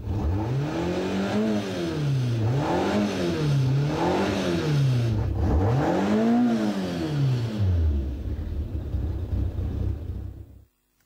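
A Toyota AE86 engine fitted with sports fuel injection revs hard in repeated rising and falling surges, loud and close, then cuts off near the end.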